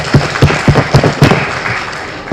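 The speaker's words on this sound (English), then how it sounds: "Can we have a huge round of applause?" An audience claps at the opening of a literature festival. The applause comes as a handful of loud, separate claps in a loose rhythm and then thins into softer scattered clapping.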